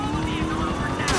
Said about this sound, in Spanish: Así que tendré que escapar del helicóptero.